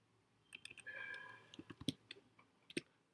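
Keys clicking on a computer keyboard as a path to roaming profiles is typed during Active Directory setup, a scattered run of soft taps, some louder than others, close by and quiet with no voices.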